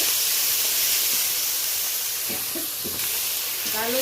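Nigella seeds sizzle in hot oil in a pan, a loud steady frying hiss that stays close and continuous, with a voice speaking faintly beneath it.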